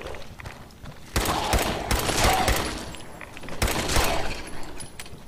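Gunfire from a zombie attack in the Fallout 4 video game: a dense burst of rapid shots starts after a quiet moment, eases off, then returns in a second rattling volley, loud and close.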